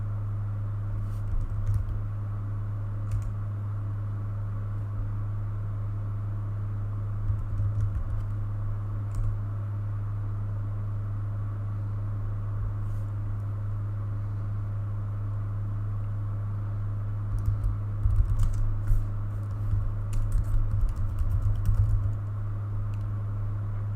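Keys on a computer keyboard clatter in scattered bursts of typing over a steady low hum of background noise, with quieter pauses in between and no speech.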